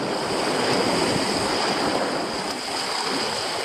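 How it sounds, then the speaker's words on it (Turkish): Sea surf washing against a rocky shore where someone is shore-jigging and spin fishing, a steady close rushing wash of waves with some wind noise on the microphone, no voices. "deniz biraz sakinleşmiş"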